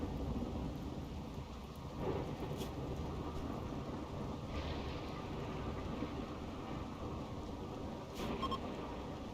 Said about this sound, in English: I know it's like the middle of a thunderstorm in the dead of night